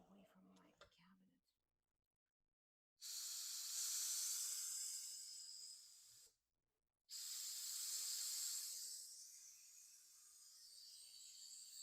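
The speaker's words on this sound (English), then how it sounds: "you can still see steam coming out from the valve" Steam hisses steadily from an Instant Pot release valve during a pressure release, two long loud bursts separated by a brief pause, the second tapering off slightly, after soft talking at the start.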